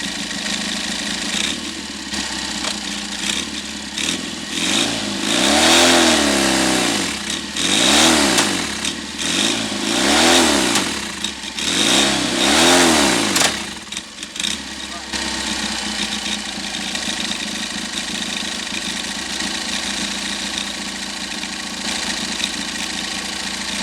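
A Triumph / Royal Enfield 'Trifield' 500 trials motorcycle engine revs repeatedly in first gear against the brakes, its pitch swelling and dropping in several surges before settling back to a steady idle.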